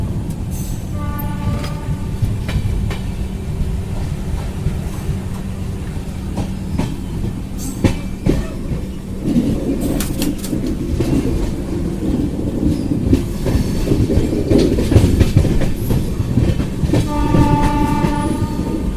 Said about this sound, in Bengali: ট্রেন চলছে